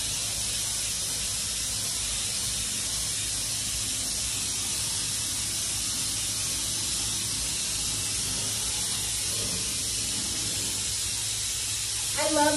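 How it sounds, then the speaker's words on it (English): A spray gun spraying glaze in a spray booth hisses steadily and loudly throughout, a constant airy blast with no pauses, ending with a brief clatter. "So you can see here, I'm spraying it all down."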